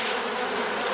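Honeybees buzz steadily at an open hive during an inspection, a dense, continuous close drone with no voices.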